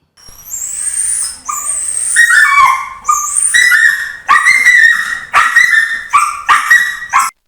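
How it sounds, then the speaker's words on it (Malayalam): A dog stuck between the bars of a house gate in Mynagappally, Kerala, cries out in a run of loud, close, high-pitched yelps and whimpers, rising and breaking in repeated distressed bursts with no talk. "ഗേറ്റിന്റെ കമ്പികൾക്കിടയിൽ കുടുങ്ങിയ നായയെ രക്ഷപ്പെടുത്തി"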